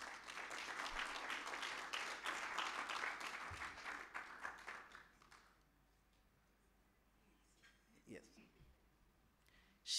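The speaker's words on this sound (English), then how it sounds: "let's give a round of applause to Mrs. Dorothy Zake." Applause from the audience fills the hall at the launch of an annuity plan, strong for about five seconds before it dies away to near silence with a few faint knocks.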